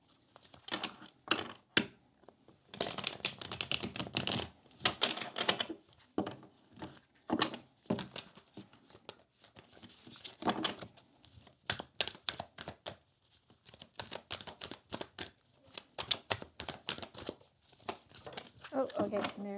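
A deck of tarot cards is shuffled in repeated bursts of quick riffling and slapping card noise, close and fairly quiet, with short pauses between the bursts.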